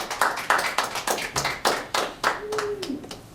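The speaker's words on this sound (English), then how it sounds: "Let's have a round of applause for us," Audience claps at the end of an anthropology alumni lecture: a modest round of distinct handclaps in a steady rhythm, fairly close, with a brief voice sound partway through.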